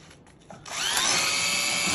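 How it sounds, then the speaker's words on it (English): A power drill bores a small hole through a 1920s-style rechargeable lantern, whirring up loud and steady after a quieter start and running on continuously to the end. "just drill a small hole"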